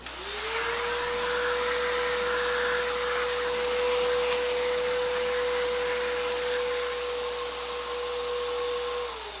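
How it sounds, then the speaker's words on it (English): A vacuum cleaner runs steadily and close during cleaning inside an audio unit, a UA OxBox, after drilling, holding a continuous whine with a slight pitch rise at switch-on and fall at the end. "I'm going to give it a quick vacuum"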